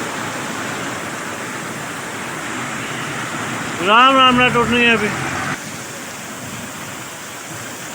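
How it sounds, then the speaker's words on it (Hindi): Steady rain falling in a mountain bazaar area of a Kashmir valley, a continuous hiss throughout with a voice speaking briefly over it midway. "बारिश लगी है"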